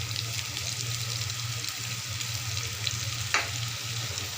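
A ground spice mix fries in hot oil in a pan, giving a continuous close sizzle with light scraping from stirring and an occasional sharper pop, no one speaking.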